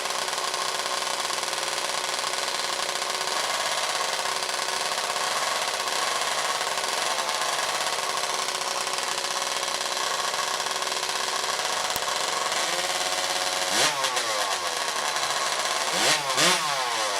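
A high-pitched two-stroke racing hot saw engine screams at full throttle at a STIHL TIMBERSPORTS competition, loud and steady throughout, with sharp revving bursts near the end.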